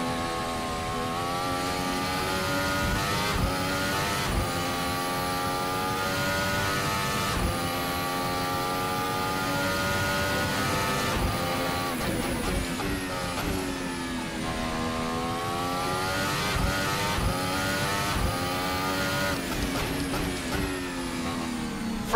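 A Formula Hybrid 2018 race car in a sim-racing game runs at high revs, its engine whining and climbing through gear changes in a continuous loud drone that rises and falls for over twenty seconds.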